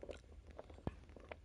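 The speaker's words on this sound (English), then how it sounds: "But you can probably hear me chewing it." A clove being chewed to ease a toothache, heard as a few soft, close crunches and mouth noises, with one sharp bite standing out in the middle, quiet and without talk.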